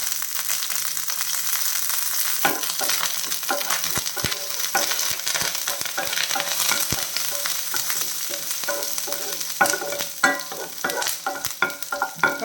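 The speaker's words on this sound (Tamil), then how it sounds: "பொரியட்டும் கடுகு நல்லா பொரியணும் கருவேப்பிலை கொஞ்சம் சேர்க்குறேன்" Mustard seeds and curry leaves crackle and pop in hot oil for sambar, a dense run of sharp spluttering bursts over a constant frying hiss, growing busier toward the end, with no talking.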